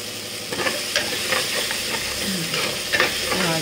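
Chole masala frying in a pan for a restaurant-style chickpea curry, a steady close sizzle with repeated scraping strokes of a spatula stirring through the thick mixture.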